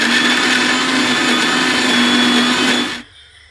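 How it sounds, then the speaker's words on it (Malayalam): An electric mixer grinder whirs loudly and steadily up close as it grinds coconut, onion, ginger and chilli, coriander and turmeric powders, then cuts off abruptly near the end, leaving a faint background hum. "അപ്പോൾ ഇതെല്ലാം കൂടെ നമുക്ക് മിക്സിയിലിട്ട് അരയ്ക്കാം."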